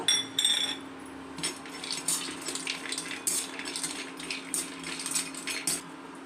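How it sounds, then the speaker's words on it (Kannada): Cashews and almonds fry in a pan while being made into a homemade immunity powder, with bright rattling clinks and scrapes as the nuts are stirred, fairly close and steady, and no talking. "ಗೋಡಂಬಿ ಹಾಕಿದ್ದೀನಿ ಅದನ್ನು ಕೂಡ ಸ್ವಲ್ಪ ಫ್ರೈ ಮಾಡ್ಕೊಳ್ಳೋಣ ಈಗ ಅದರ ಜೊತೆಗೇ ಬಾದಾಮಿನೂ ಕೂಡ ಹಾಕೋಣ"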